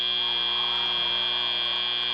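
An end-of-match buzzer sounds at a FIRST Robotics Competition event in Michigan: a loud, continuous electronic buzz holding a steady tone for the whole stretch, with no voices over it.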